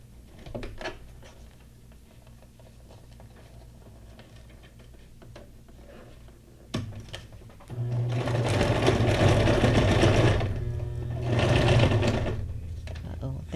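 Sewing machine stitching a zigzag on pink material, quiet handling at first, then two loud sustained bursts of close mechanical whirring with a brief pause between them, light talk in places.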